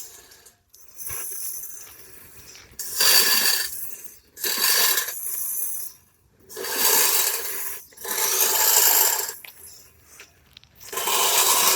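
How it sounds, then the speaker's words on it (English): Hand sanding a Honda Civic hood with 120-grit paper, repeated long rasping strokes, about five or six passes, close and loud with short pauses between them. "sanded it all down with 120."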